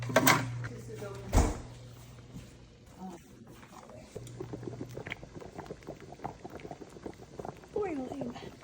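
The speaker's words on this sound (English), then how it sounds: "Boiling." Water boils in a pot while lasagna is being made, giving a soft, continuous bubbling beneath people talking nearby. A couple of sharp knocks and clatters of kitchenware break through.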